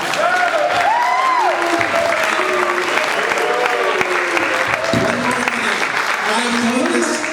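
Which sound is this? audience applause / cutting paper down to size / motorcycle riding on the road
audience applause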